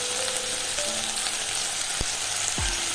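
Tomato and onion frying with egg curry masala for a wedding-style egg omelette curry, giving a steady, close sizzle throughout with a couple of soft stirring knocks near the end.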